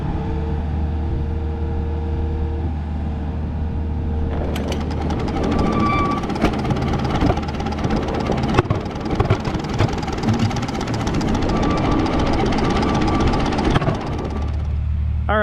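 The engine of a 1935 Allis Chalmers UC tractor churns and sputters roughly up close as it tries to start, its choke fully on, a steady rumble broken by knocking, irregular bursts throughout without ever settling into a clean run.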